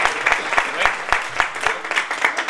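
A studio audience at a Spanish television show applauds a councillor, with loud, rhythmic clapping in unison at a steady beat.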